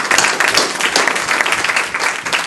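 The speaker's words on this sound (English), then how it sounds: "May we have a round of applause for Ed Baum?" An audience at a judicial candidates' forum applauds, dense steady clapping from a roomful of people, loud and sustained.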